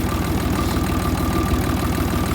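A farm vehicle's engine runs at a steady, loud, low idle in cold weather, its close, even rumble carrying a faint knocking pulse.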